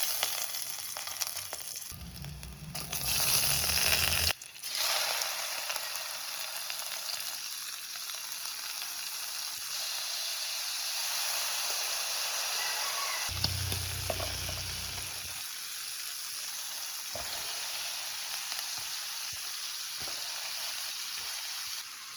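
Egg frying in a home pan, a steady bright sizzle and crackle running continuously and fairly softly, with a couple of brief lower bursts of stirring or shifting in the pan.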